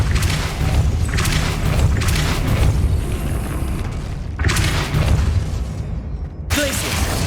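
A Depulso force spell cast in Hogwarts Legacy, a deep booming blast over a continuous rumbling game soundscape, with several swelling bursts and a short break of quiet near the end.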